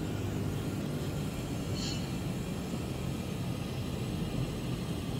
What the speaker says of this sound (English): we're bringing a DC-3 in on a sod landing